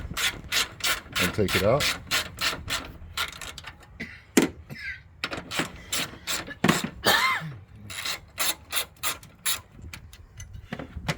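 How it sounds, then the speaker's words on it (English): A ratchet loosens the battery hold-down bolt and nut on a Toyota Tarago/Previa, giving bursts of rapid, close clicking in a steady rhythm with brief pauses, while someone speaks briefly. "So first things I'm going to do is just loosen up these two, that nut and this bolt."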